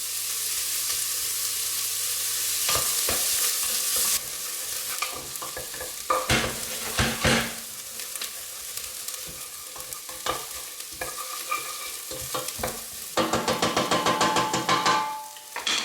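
Chopped onion sweating gently over moderate heat in a pan ahead of mussels and curry, a soft steady sizzle broken by repeated scraping and clattering stirs, with a quick run of rapid utensil taps near the end.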